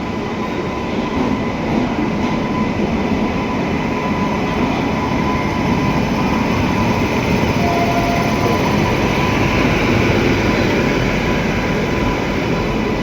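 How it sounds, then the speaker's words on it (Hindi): Lucknow–Chhapra Express passing close by on the rail line between Varanasi and Pandit Deen Dayal Upadhyaya, a loud, steady rumbling roar that lasts throughout with faint wheel clatter. "सामने से कोई ट्रेन तो आ रही है"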